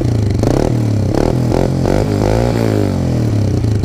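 A Kawasaki KSR 110 mini moto engine with an aftermarket exhaust pipe runs loud and close, idling with a few quick revving blips that rise and fall.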